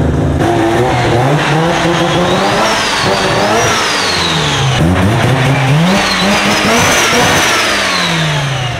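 A loud built Mazda RX7 rotary engine revs repeatedly up and down, close by, its pitch swooping high and dropping back in quick rising bursts.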